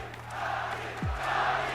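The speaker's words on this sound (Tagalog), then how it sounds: "And listen to that crowd" Crowd at a 2004 boxing match between Manny Pacquiao and Narongrit Piriyapinyo roars steadily after a fourth-round knockout, a broad continuous cheer from a large arena audience with a low electrical hum underneath.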